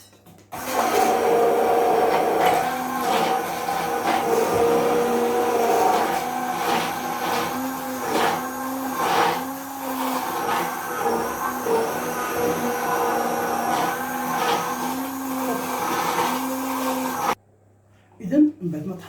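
A blender whirs steadily while blending a lemon mousse cream of chilled whipped cream, a continuous motor drone with pulsing changes that runs nearly twenty seconds and then cuts off abruptly, with a faint voice underneath.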